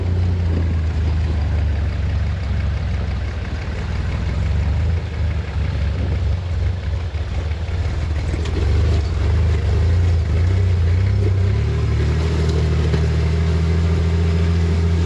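A Land Cruiser rock buggy idles with its carburetor struggling, a loud, steady low engine rumble that wavers unevenly and shifts pitch slightly near the end, with no talk over it.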